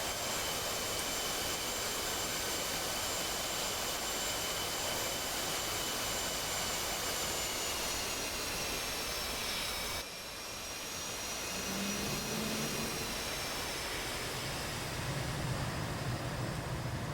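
Jet engine noise from an F/A-18 Hornet in a flight video game, a steady broad roar with high whining tones that drift in pitch, continuous and fairly loud throughout, with no talking.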